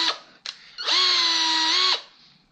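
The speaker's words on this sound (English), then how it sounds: "Oh, I really hate drilling into my walls." A power drill bores into a household wall during a floating shelf install, with two short bursts and then a sustained high whine of about a second, loud and close, alone with no talk.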